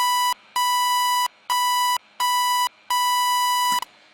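A synth stepper riff from NI Massive without frequency modulation plays as five clean, bright beeping tones of uneven length separated by short silences, a steady pulsing pattern ending with a brief glitchy tail.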